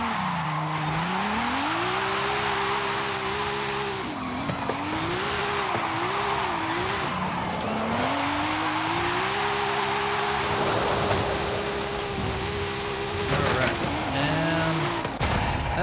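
Burnouts in the Forza Horizon 5 racing game: a revving engine drones and rises in pitch over loud, continuous tire squeal and skidding hiss, sustained close and steady through the whole stretch.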